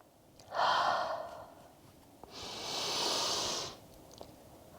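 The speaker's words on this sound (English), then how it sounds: "We'll take a few rounds of breath right here." Two slow, deep breaths taken in a yoga forward fold, a softer airy inhale followed by a longer, fuller exhale, quiet and close with no talking.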